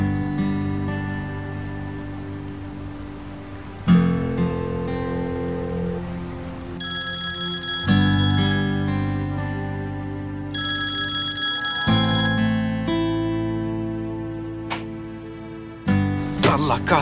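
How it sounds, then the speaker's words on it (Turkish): Phone ringing while someone waits for the call to be answered in a Turkish drama: a steady, loud electronic ring repeats in cycles of about four seconds, with no one talking over it. "Hadi Lale, aç şu telefonu."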